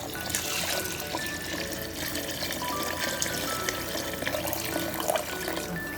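Water pours steadily into a pot holding four cups of basmati rice, a continuous close splashing trickle with no talk over it.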